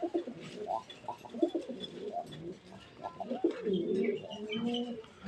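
A female pigeon coos repeatedly, soft throaty calls rising and falling close by, with rustling from other birds around; she is a white-breasted, white-tailed Raj Golla pigeon.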